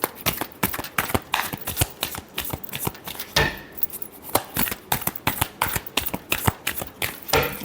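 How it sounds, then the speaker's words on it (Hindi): A deck of tarot cards is shuffled by hand, with rapid crisp riffling and slapping bursts repeating close by and a brief pause midway. "last shuffle"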